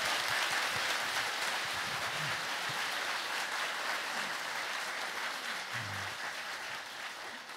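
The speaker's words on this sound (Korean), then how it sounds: "박수 다시 한번 부탁드리겠습니다." A seated audience at a Korean author talk claps steadily, a dense even wash of applause that fades slowly over several seconds, with faint voices murmuring beneath it.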